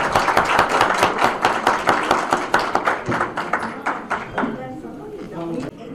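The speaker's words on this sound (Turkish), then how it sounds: "Bir alkış diyelim." Audience applause at a logistics company event, many hands clapping loudly and steadily before fading out, with a voice starting to speak at the end.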